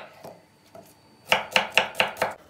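Onions are chopped finely on a board for a bean dish, with a few soft cuts followed by a quick run of five crisp, evenly spaced knife strikes close up.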